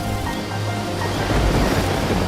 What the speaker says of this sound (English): There were waves all around.